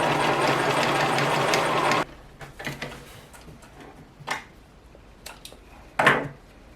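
A sewing machine runs briefly and steadily while stitching the ends of a fabric bag closed, then stops, leaving quiet rustles and handling clicks of the fabric.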